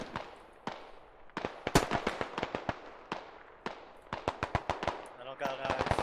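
Suppressing fire in the military shooter game Squad: a few spaced single shots, then rapid runs of sharp, loud rifle cracks in quick rhythmic succession, with some quieter distant gunfire mixed in.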